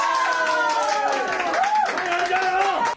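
A family gathered in front of the TV claps and cheers for a taekwondo athlete in an Olympic 68 kg match, rapid clapping under loud excited shouting and voices throughout.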